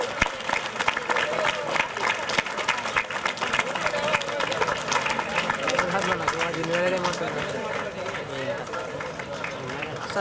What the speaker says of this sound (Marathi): टाळ्यांचा आवाज फक्त डावीकडून येतोय